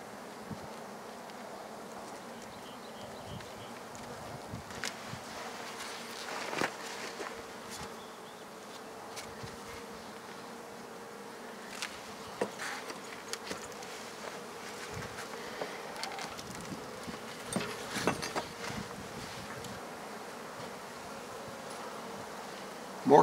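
Honey bees hum steadily around an open top-bar hive during an early spring inspection, a dense close buzz with individual bees flying past and rising and fading in loudness.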